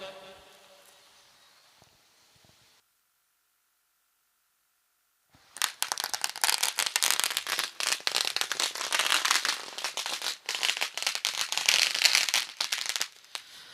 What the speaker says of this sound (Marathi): ही फटाक्याची आतषबाजी आपण पाहतोय